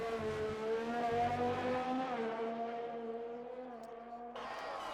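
A race car engine in a racing video game at the Canada round, a steady high revving whine that climbs and dips through the gears, with commentary running over it before a sharp change near the end.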